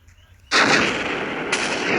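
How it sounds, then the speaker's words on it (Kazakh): A bomb goes off in a modded video game, with a sudden loud blast after a quiet moment, then a sustained roaring rumble and a second sharp burst near the end. "Ал енді бомба."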